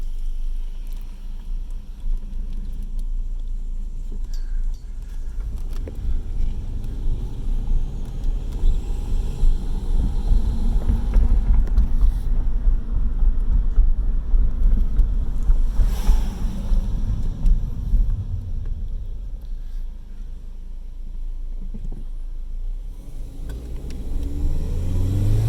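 Subaru Legacy GT driving with the windows down, a steady low rumble of engine and road noise buffeted by loud wind roar that swells midway and stays constant throughout, with no talking.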